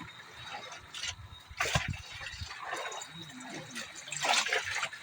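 Water is poured into a cooking pan in uneven splashes and gurgling bursts, moderately close and fairly quiet, against a faint background.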